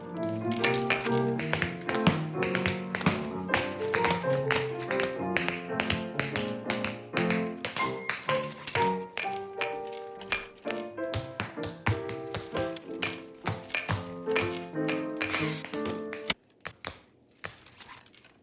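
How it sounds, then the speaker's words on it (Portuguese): Tap dancing on a chair in a Glee musical number: rapid, crisp taps and shuffles over bright backing music, loud and rhythmic throughout, ending in a few scattered final taps as the music stops. "Meu sapateado de cadeira é horrível."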